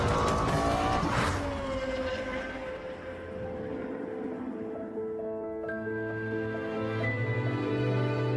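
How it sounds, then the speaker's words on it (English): A Lexus LFA's V10 engine screams up through its range, loud and close, then drops and builds again with sharp, sustained harmonic whine. "The highest revving V10 engine in a production car."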